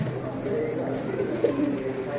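Flock of flying pigeons, prized breeding pairs, cooing steadily in a loft, with a low continuous murmur of overlapping coos and a brief louder coo near the middle, under faint indistinct voices.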